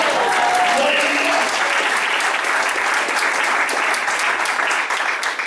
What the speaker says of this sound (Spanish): ¿Cuánto le damos palmas al Señor por eso?